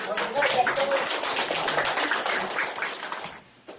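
An audience at a theatre festival applauds a performer, a brisk, even burst of many hands clapping that carries on steadily before tapering off at the end.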